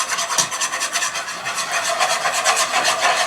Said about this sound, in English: I think that could use with a little bit of whisking.